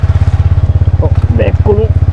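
A Hero sports bike engine idles steadily and close by, its deep even pulse running through the clip while someone talks over it.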